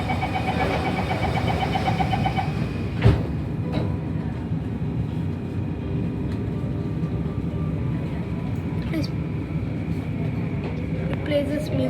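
A Singapore Downtown Line metro train pulls away from Bayfront station, a steady underground rumble and rising hum with a chime tone early on, while a voice speaks over the running train.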